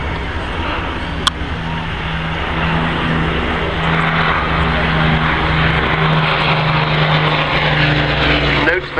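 A Hawker Hurricane propeller fighter's piston engine drones loud and steady at an air show, a sustained roar with a brief sharp click near the start.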